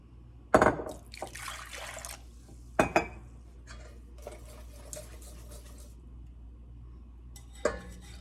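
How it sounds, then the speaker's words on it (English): Water poured into a pot on a kitchen range while making homemade yogurt from whole milk powder, with sharp clanks of metal cookware, a gushing pour and quieter clattering in between, close and without talk. "I'm going to add the remaining 3 1/2 cups of water."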